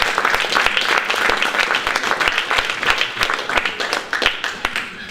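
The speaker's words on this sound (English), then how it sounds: "give them a round of applause" An audience bursts into loud, close applause, with individual claps distinct and rhythmic and slowly thinning over five seconds.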